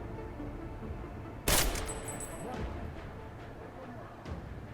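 Battle rifle gunfire in the video game Deus Ex Mankind Divided: one sharp, loud burst of shots cuts in sharply, then a quieter shot follows near the end, over steady game ambience and background talk.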